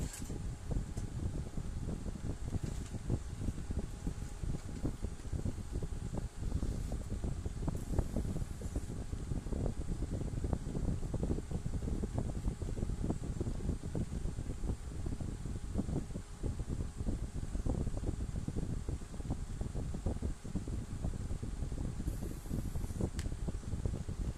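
A steady, close car blower fan hums and whooshes continuously with a faint rustling texture before its automatic shutoff, no voices present.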